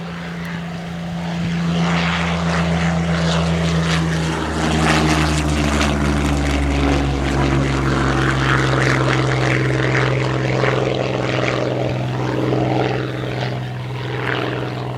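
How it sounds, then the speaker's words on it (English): A Supermarine Spitfire Vb takes off at an air show, its propeller engine building to a loud, rumbling drone that swells as it climbs away, with no voices over it. "the Spitfire 5B of the fighter collection getting airborne to go off and hold"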